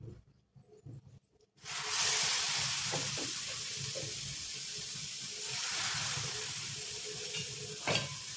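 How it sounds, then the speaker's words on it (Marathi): Bitter gourd laid on a griddle with ghee bursts into a loud hiss after a quiet start with a few clicks, then settles into a steady close sizzle with occasional stirring knocks, no speech. "अशी कारली आपल्याला आता मंद आचेवर भाजायची आहे ती।"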